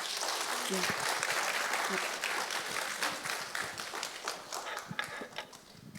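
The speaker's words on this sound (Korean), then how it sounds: "오늘 귀한 말씀 해주신 안유화 교수님께 다시 한번 큰 박수 부탁드리겠습니다." An audience applauding a professor after a lecture, a dense, sustained patter of many hands clapping nearby that thins toward the end, with a voice speaking briefly over it.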